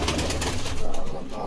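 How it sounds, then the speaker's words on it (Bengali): Shirazi pigeons coo in a coop, a dense overlapping murmur of soft throaty calls close at hand, with light rustling among the birds. "সিরাজি কবুতরের এত দাপট"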